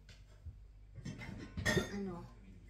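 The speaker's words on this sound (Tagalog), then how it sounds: "haluin na natin yan guys" A utensil clinks and scrapes against a bowl while nem filling mixture is stirred, with a few close, irregular metallic knocks and a louder clatter in the middle, amid quiet kitchen noise.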